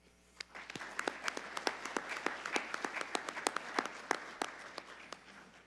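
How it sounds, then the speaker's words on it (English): Dinner audience at a Montana FFA Foundation donor recognition event gives a round of applause, many hands clapping steadily for several seconds with sharp distinct claps standing out, fading at the end. "So give all of yourselves a round of applause."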